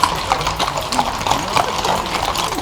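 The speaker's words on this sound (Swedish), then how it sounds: "Så att nu ska hästarna hem igen och soldaterna är på slottet." Police horses returning home from a castle clip-clop along in a steady rhythm of hoof strikes, fairly close, with a low engine rumble and faint background noise underneath.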